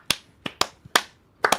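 Scattered sharp hand claps, about six in irregular bursts, close and dry with silence between them, during a casual hip-hop chat about Jay-Z's Verzuz battle.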